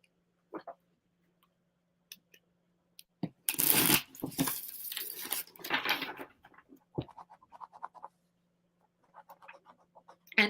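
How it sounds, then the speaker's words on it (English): Tarot cards being shuffled during a live card reading, with faint scattered taps before a loud, dense riffle of cards in the middle and a few soft shuffling sounds after. "We get one more shuffle in, Nina."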